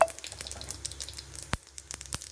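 Mustard seeds spluttering in hot oil for a South Indian home dish, with faint continuous frying crackle and scattered small pops, one sharper pop standing out, heard close and quiet without talk.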